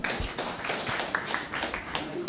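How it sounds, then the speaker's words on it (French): An audience claps at a school Francophonie celebration during a quiz contest between pupils, a brief burst of steady applause filling the room. "On les applaudit."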